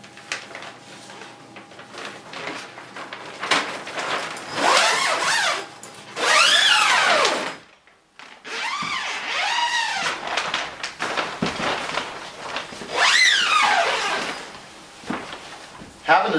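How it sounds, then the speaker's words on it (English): Zippers on a ZipWall plastic dust-barrier door are pulled open and closed on a remodeling job site, several long rasping zip strokes separated by pauses, close and fairly loud. "The zippers are already applied to the plastic"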